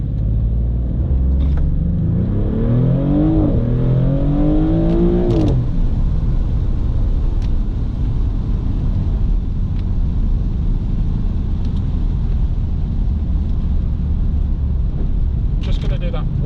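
A Maserati GranTurismo V6 launched from a standstill, its engine rising in a loud, climbing rev before the pitch drops at a gear change, then a steady heavy cabin rumble as the car pulls away.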